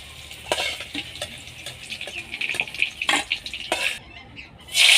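Soybean chunks and makhana frying in hot refined oil give a soft bubbling sizzle, with several sharp metal scoop clinks as pieces are lifted out. A louder rush of frying comes at the very end.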